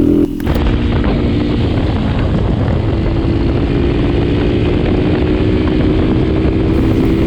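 An Xpro Storm 150 DLX dirt bike holds high speed near its 55 mph top end, its engine a steady, loud, unbroken roar mixed with wind rush throughout.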